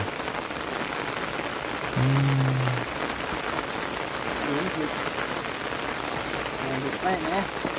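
Steady rain pours across the whole stretch, a dense broadband wash hitting surfaces nearby, with a brief tonal burst partway through and faint voices murmuring under the downpour.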